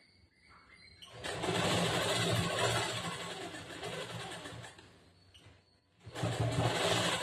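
A sewing machine stitches the side seam of a cross-cut blouse in two bursts, a dense whirring run, a brief pause, then more stitching.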